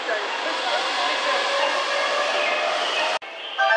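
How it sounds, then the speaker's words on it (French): A steady, loud rushing roar of a limited express train passing through a small station without stopping, cutting off abruptly near the end, followed by quieter ambient noise. "il y a un train qui passe sans s'arrêter"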